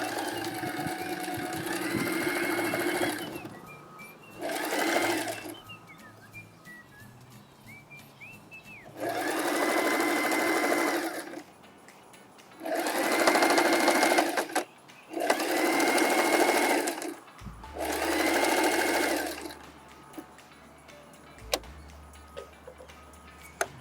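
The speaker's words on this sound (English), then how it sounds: "So we're gonna start sewing here all the way down." A sewing machine stitches a bag seam in several bursts of rapid, steady whirring, each a few seconds long with short pauses between, close and clear with no talking.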